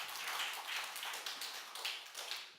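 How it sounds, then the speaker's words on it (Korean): A church congregation applauds during a sermon, a dense, steady wash of many hands clapping together, moderately loud and continuous throughout, with no talking over it. "그런 의미에서 수고하시는 분들에게 박수 한번 보내세요."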